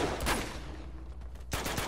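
Gunfire in the video game Uncharted 2, a few sharp shots around a brief burst early on, a quieter stretch, then another cluster of loud reports near the end, with no talk.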